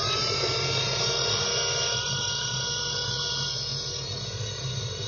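An antique Tyco slot car, a '63 Corvette in blue, runs its small electric motor on a dyno with a steady, high-pitched whine and a low hum underneath, continuous and close for the whole stretch.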